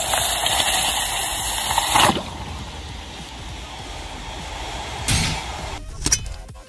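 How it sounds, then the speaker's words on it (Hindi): Water poured onto a hot aluminium casting shaped like a papaya gives a loud hissing gush, then a quieter stretch, with two more sharp bursts of sizzling and splashing later. "मतलब इसको कितना भी पानी डाल लो इसको ऐसे ही रहना है।"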